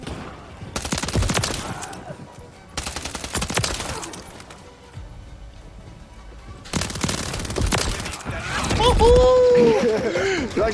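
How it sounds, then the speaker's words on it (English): Rapid automatic gunfire from a gun in the Modern Warfare 3 beta comes in loud sustained bursts separated by short pauses, with other game sounds and talk mixed in. "how does your gun shoot that fast?"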